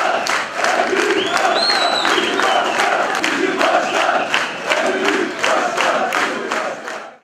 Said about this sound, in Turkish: Başkan Şahin'e büyük sevgi gösterileri ve tezahüratlarda bulundu